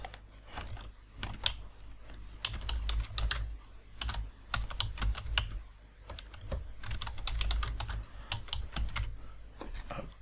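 Rapid bursts of keystrokes on a computer keyboard entering a password while exporting a PFX certificate, clicking in uneven clusters with short pauses, close and fairly soft, no voices.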